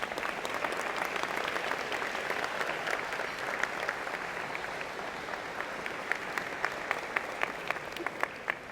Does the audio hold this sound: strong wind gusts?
no